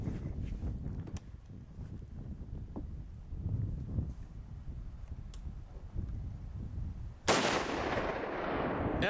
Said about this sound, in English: using his new Mosin Nagant Russian sniper rifle